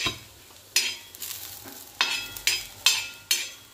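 Clove and coriander seeds are stirred as they dry-roast in a pan, giving a few sharp scraping, rattling strokes at uneven intervals over a faint background.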